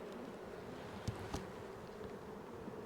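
Bees buzz inside a honey super of a beehive, a low continuous hum with a couple of brief louder passes near the microphone, faint and steady with no talk.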